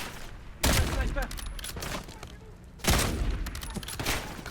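Gunfire in the video game Call of Duty Black Ops 7, two loud sharp bursts of shots with rumbling battle noise between them, while a player talks over the action.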